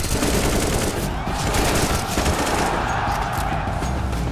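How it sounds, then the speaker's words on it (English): Dense, sustained weapon fire in Counter-Strike 2, loud continuous automatic shooting with overlapping bursts filling the whole stretch. "firing a weapon looks pretty simple. You click your mouse, your character shoots, your target takes damage."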